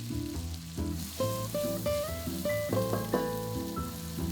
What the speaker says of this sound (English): Add the onions, garlic, and shallot.